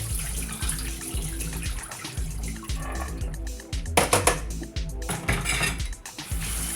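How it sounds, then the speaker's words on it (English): Water is dumped out and rinsed in a kitchen sink while cooking chicken, with splashing, running water and clattering pots and dishes throughout, some louder clanks midway, no talking. "Now I'm going to dump this water out, rinse it"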